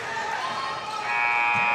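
A buzzer sounds at the end of a quarter in a boys high school basketball sectional game, Caston against North White. It rises as a steady, loud tone over the continuous din of the gym crowd.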